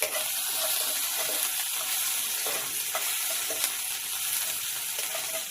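Mustard seeds, ginger, green chili, garlic and curry leaves sautéing in hot oil for a rice dosa batter side, a steady close sizzle with faint stirring scrapes, no voices.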